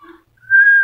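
Pet parrot whistling at home, a single clear rising tonal whistle held for about half a second after a faint short chirp, close and loud with no talk over it.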